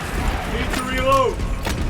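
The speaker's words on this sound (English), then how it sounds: "Need to reload." Weapon reload in Warhammer 40k Space Marine 2, a short mechanical clack and creaking metallic slide over steady game background noise.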